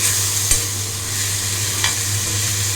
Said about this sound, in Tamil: நல்லா ஸ்டர் கொடுத்துருவோம்.